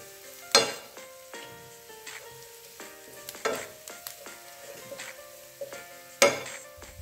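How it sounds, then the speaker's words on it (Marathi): Onions fry in oil in a pan as a pinch of asafoetida goes in, for Rajasthani gatte ki sabji: a steady close sizzle broken by several sharp metallic clinks and scrapes of a spoon against the pan. "आता इथे व्यवस्थित कांदा फ्राय झालेला आहे। याच्यामध्ये थोडासा मी हिंग टाकते"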